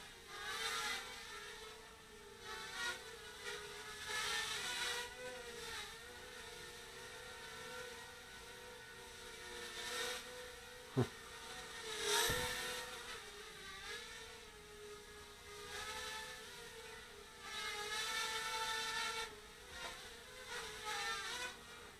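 A small quadcopter drone, the Daming DM003 Mini, flies nearby with a steady high-pitched motor whine that rises and falls as it maneuvers, plus a sharp click partway through.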